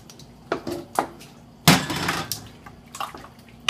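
Water is poured into a pot of chili with jalapenos, a sloshing splash landing in the middle, surrounded by close clinks and knocks of a utensil against the cookware.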